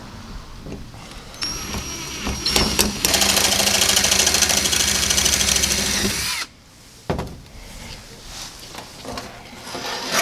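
An electric drill runs loud and close for several seconds as it widens a hole in a fuel sending unit (part FG156A) for an LS swap, then stops, followed by a short whir and quieter handling.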